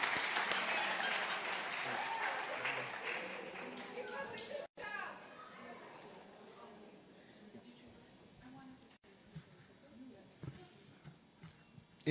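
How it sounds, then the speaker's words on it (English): Applause from a crowd fills the first few seconds, loud and dense, then fades into scattered chatter and children's voices in a large room. "Let's give them another round of applause."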